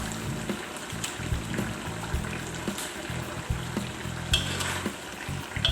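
Chili stir-fried in a pan makes a close, lively sizzle, broken by repeated scrapes and clatters of a spatula stirring at an irregular rhythm, with no voices.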